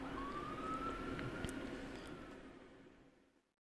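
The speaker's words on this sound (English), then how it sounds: "As the credits roll, police sirens can be heard" Police sirens wail through the end credits of the video game Omori, a steady rising tone sitting over a dense noisy backdrop before fading out toward silence.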